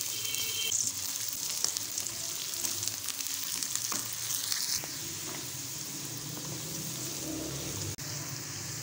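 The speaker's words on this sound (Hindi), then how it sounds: "मटर ऐड करके थोड़ी सी बुनाई करेंगे।" Carrots and peas fry in a pan while being stirred, a steady close sizzle with scraping and clattering from the spoon, fairly loud throughout, no voices.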